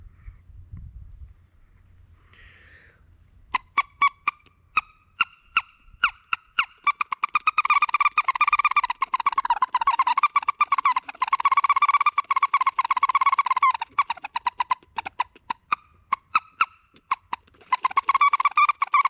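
Rapid bursts of wood duck drake calls blown on a DC duck call, quick tongue-driven squeals piling up to mimic many drakes at once, loud and close, running almost continuously after a quiet start.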